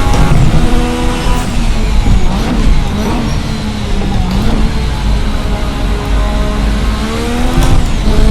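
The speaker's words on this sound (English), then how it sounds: "There's the turbo!" A turbocharged V6 in the Formula RSS 1986 car in Assetto Corsa roars at full throttle, loud and close, its pitch climbing through each gear and dipping at the shifts, with some tyre squeal.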